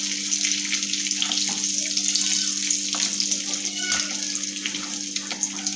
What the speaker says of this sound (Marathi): छोटा दालचिनीचा तुकडा, तीन मिरी, तेजपान घालूया आणि हे आपल्याला तेलामध्ये तळून घ्यायचं आहे।